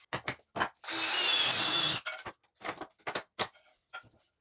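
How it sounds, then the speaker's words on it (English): A power drill runs for about a second with a Forstner bit boring a hole in wood, surrounded by scattered clicks and knocks of handling before and after. "then I'll use a Forstner bit to make a hole"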